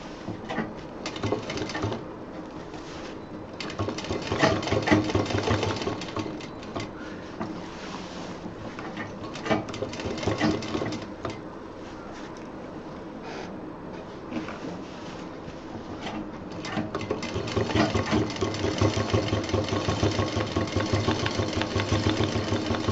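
A sewing machine stitches the edges of a patch onto a college bag, a rapid mechanical whirring in bursts that start and stop, fairly close but low in level, with pauses between runs.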